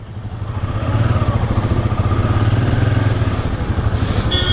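A lineup of motorcycles at the start of a Delhi to Himachal Pradesh road trip, engines idling with a dense low rumble and occasional revs, close and continuous.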